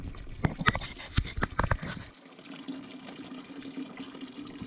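Water flushes through a steam trap strainer, opening with a few sharp bursts and clanks before settling into a steady rushing flow, close and fairly loud.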